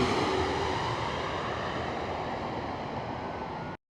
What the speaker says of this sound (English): That was an Embraer E175